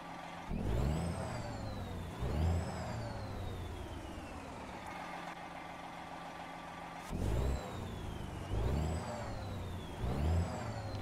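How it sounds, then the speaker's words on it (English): A truck engine in American Truck Simulator idles and runs, with a steady low drone and several revs that rise and fall in pitch, heard close and without talk. "listen to the motor a little more"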